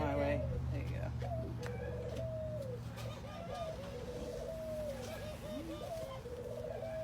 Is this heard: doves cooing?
yes